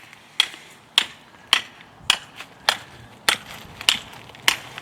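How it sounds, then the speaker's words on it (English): A simple 3-pound sledgehammer drives a path light stake into the ground, eight sharp evenly spaced strikes about every half second, close and loud with brief ringing after each blow. "I'm just taking a sledgehammer, just a simple 3-pound sledge"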